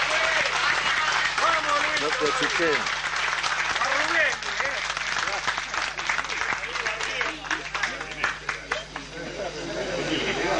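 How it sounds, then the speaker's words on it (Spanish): Audience at a tango tribute evening applauding to coax Luis Vera into singing, a dense clatter of clapping mixed with crowd chatter and a brief spoken voice. "Y ustedes lo aplauden y se anima"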